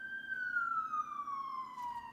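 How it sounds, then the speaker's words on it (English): An ambulance siren outside, a single steady tone that slowly drops in pitch as it passes, moderately loud and alone against a quiet background. "Or, yeah, that should be an ambulance."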